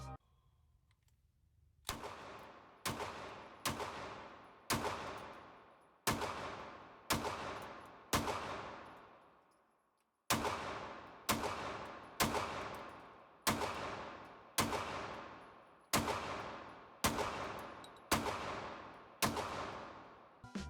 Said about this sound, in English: I'll go ahead and show you some footage of the shooting experience with the SRO and Streamlight on.